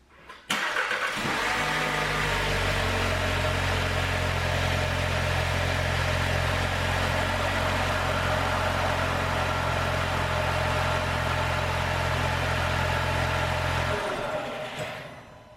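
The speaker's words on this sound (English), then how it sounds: "I'm going to start the car and check the pressure on the pedal" An MK7 VW Golf engine turns over and settles into a steady, loud idle that runs evenly for about twelve seconds before cutting off, heard close up in a garage during a brake pad, rotor and caliper job.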